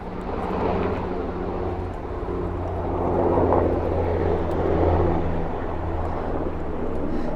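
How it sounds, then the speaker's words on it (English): A VH-92 helicopter's low, throbbing rotor drone, steady and fairly loud throughout, swelling slightly in the middle as it passes nearby. "I hear a helicopter coming."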